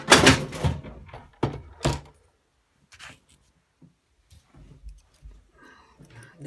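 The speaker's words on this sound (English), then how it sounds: "Don't mind the bang crash, that was just my box falling off." A cardboard box tumbles off a craft table with a few hollow thumps and knocks close by, followed by quieter scattered taps and shuffling.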